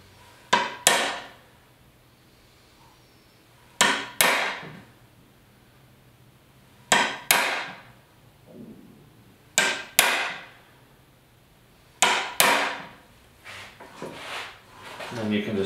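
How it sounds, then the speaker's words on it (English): A hammer drives a chisel into wood, with five sharp, loud pairs of strikes at regular intervals and quiet pauses between them, ending with lighter taps. "When you're hammering, you can break this end off."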